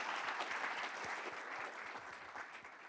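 An audience applauds schools at a school board meeting, a steady, dense wash of many hands clapping at moderate distance for the full stretch, easing slightly toward the end.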